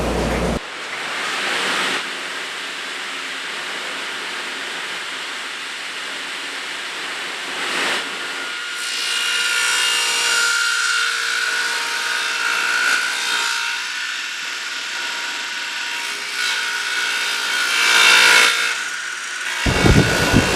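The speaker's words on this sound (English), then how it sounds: "then the 12-inch dado in all 3, and then I'll put the 23 and a half inch dado in all 3" A saw cuts dadoes in wood for a Torah table, giving a loud, steady whining roar that starts abruptly and continues without talk before cutting off at the end.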